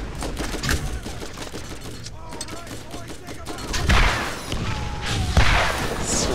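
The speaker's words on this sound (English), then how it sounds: "Nothing like a rocket launcher." Rocket launcher explosions in the Borderlands video game: a busy run of booming blasts and gunfire-like bursts, with heavier explosions building toward the end amid steady game noise.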